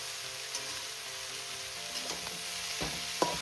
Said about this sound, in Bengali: এবার মশলার সাথে ভালো করে মিশিয়ে ঢাকনা দিয়ে ঢেকে আমি রান্নাটা করব।